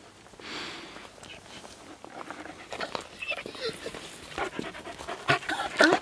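A large Bukovina shepherd dog, a male, pants heavily and quickly, close by, while people talk in the background.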